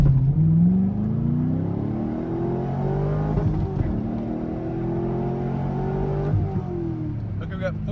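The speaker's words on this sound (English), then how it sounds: "I'm just doing a burnout over and over again" A C5 Corvette does a burnout launch, the engine roaring loud and close as revs climb and shift in rising sweeps under a constant rush of spinning tires, while someone talks over it.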